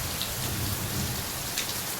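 Dense, heavy monsoon rain in Konkan hisses steadily on surfaces, a continuous close wash of drops with faint low rumbling of thunder.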